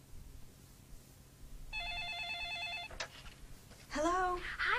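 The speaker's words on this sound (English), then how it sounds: "Suddenly, the phone rang." A telephone bell rings in a short warbling burst indoors, loud and close, then breaks off as a voice briefly begins to speak.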